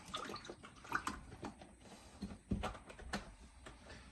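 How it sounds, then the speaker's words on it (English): Coconut milk, shaken beforehand, is poured into a saucepan in a quiet, soft liquid trickle, with a few light clanks and knocks of cookware nearby. "we're going to do 2 cups of coconut milk into a saucepan"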